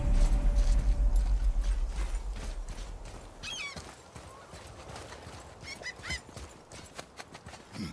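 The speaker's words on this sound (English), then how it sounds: "Start by lifting that axle." In God of War, an axle mechanism is lifted with heavy grinding, ratcheting and clanking, a dense rumble that eases off into scattered metallic clicks and scrapes.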